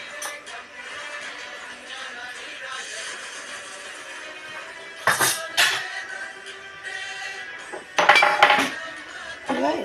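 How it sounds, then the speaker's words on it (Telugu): Garlic pounded during home cooking, a few sharp metallic knocks arriving in two short clusters against a steady low kitchen background. "ఇలా ఎల్లిపాయ దంచేస్తున్నాను నేనైతే"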